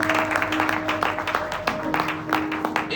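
A church congregation claps in acclamation during a sermon on the cross, with scattered distinct claps over sustained musical tones and a low steady hum.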